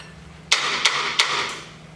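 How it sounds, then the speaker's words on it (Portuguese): A judge's gavel strikes three times in a courtroom during a staged dramatic reading, sharp wooden knocks spaced about a third of a second apart, each with a short ringing decay. "De repente ouvimos um forte barulho de martelo da juíza."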